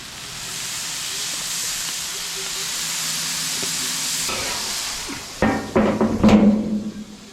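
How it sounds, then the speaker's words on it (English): Burger patties topped with cheese hiss and sizzle steadily on a flat griddle under a lid, a loud, continuous frying sound that flares into sharper crackling and steam bursts near the end. "let's close up the lid for just a second and see if we can't steam this cheese"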